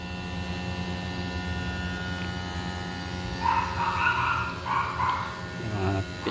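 Xpower Carrier inverter air conditioner running after a PCB board replacement, with a steady electrical hum and drone and some brief higher tonal bursts partway through, heard up close.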